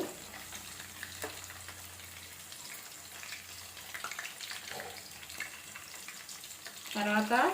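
Garlic frying in a pan in a home kitchen, a steady low sizzle with clinks of stirring, swelling louder near the end.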